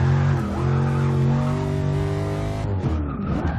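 A Lexus IS F track build on a practice lap, its engine droning loud and steady at high revs, with a shift and a dip in pitch near the end, close and continuous.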